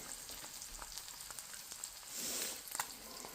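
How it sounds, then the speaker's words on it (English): A flipped egg fries in a pan with the yolk broken, giving a steady soft sizzle that swells briefly partway through, close by and without talk. "Now let's flip the egg."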